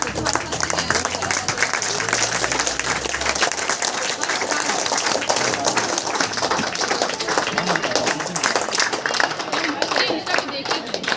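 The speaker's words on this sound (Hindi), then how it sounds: "कृपया जोरदार ताली।" Audience applause fills a prize-giving function at Bhushan Classes, a steady, dense roar of many hands clapping close by that keeps going without a break.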